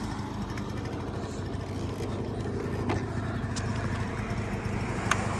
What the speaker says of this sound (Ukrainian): По двигунчику без питань. Рівненько, тихенько, гарно працює.